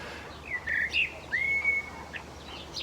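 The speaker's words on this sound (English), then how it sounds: "blackbirds singing." Blackbirds sing in a garden in Glasgow, with a few short bright whistled phrases and one longer sliding note rising clearly above a quiet background.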